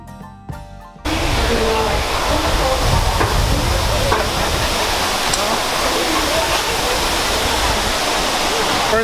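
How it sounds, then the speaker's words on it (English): Indoor waterfall inside the Cloud Forest conservatory at Gardens by the Bay, a steady loud broadband roar of falling water that surges in after a brief quieter moment and continues unbroken. "first thing you see when you get inside the cloud forest is this waterfall"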